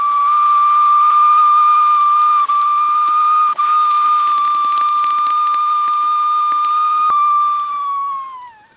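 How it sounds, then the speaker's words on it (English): A Ghillie Kettle 1L boiling water over its stove gives a loud, sustained high-pitched steam whistle, steady for several seconds before it wavers and fades out at the end, close and with no talking. "It will let off a high-pitched whistle, which is very, very cool."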